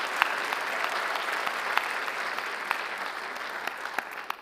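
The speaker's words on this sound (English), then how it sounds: "Let's do another round of applause for everyone here." An audience applauds steadily at the 2024 Crystal Apple Awards ceremony, with sustained, fairly distant clapping and a few sharper claps rising above the even wash of sound.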